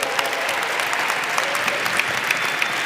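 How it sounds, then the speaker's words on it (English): A room full of people claps in steady, dense applause, moderately loud and unbroken for a few seconds. "Give her a round of applause."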